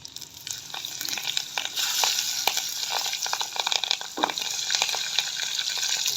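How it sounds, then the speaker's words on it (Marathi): Chopped capsicum sautéed with cumin and garlic in a pan sizzles steadily, broken by scraping stirs and clinks of the spatula close up. "छानपैकी परतून घ्यायचं"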